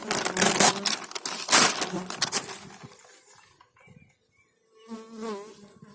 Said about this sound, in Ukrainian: Бджоли сидять за заставною